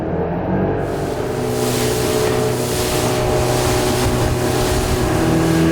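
A motorboat engine roars loudly and steadily close by on Lake Superior, mixed with rushing water and wind noise, with no talking.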